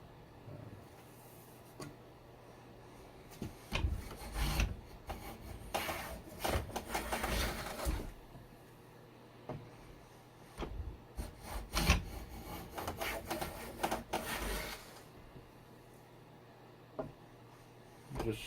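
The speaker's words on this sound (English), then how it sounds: "So I'm finishing out the hand planing of this last maple board before I cut the strips." Hand plane strokes across a maple board, scraping shaving swishes in irregular bursts with quiet pauses between passes, close and moderately loud.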